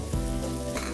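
Onions dropped into a hot pan with browned pork belly, a sudden hissing sizzle that starts sharply and then holds steady, close and fairly quiet.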